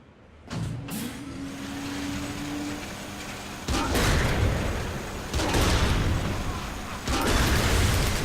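Tank driving and causing destruction in the video game Saints Row: The Third, a loud rumbling engine roar with heavy thuds and crashing bursts piling up over several seconds.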